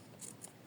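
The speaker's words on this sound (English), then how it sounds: "it's just trimming around the edges" Small scissors trimming around the edges of an in-the-hoop embroidered mermaid bookmark give two quick, faint snips close by in a quiet room.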